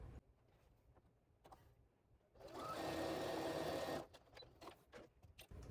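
A sewing machine runs in one steady burst of about a second and a half, stitching along the edge of a quilt strip. Quiet handling noises come before and after.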